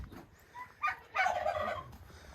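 Turkeys gobble close by, a short call followed by a longer, louder rattling gobble, with faint background noise.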